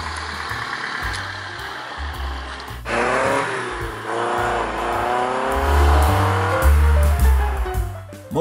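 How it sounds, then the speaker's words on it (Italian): A second-series Lancia Fulvia Coupé with a narrow-angle 90 hp V4 and five-speed gearbox drives on the road, its engine note building and rising as it accelerates, loud and close with shifting pitch. "Molto grintoso su strada il motore, 4 cilindri a V, tipico Lancia, a V stretto, da 90 cavalli"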